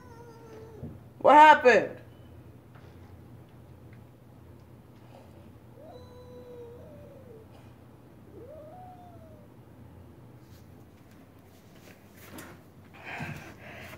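A cat lets out one loud, harsh, drawn-out cry near the start, followed by a few faint, short meows and a quiet room, with a person speaking briefly.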